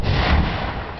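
Teaser fireworks set off with a hand detonator give one loud, close, booming blast whose roar fills the whole moment, with no voices.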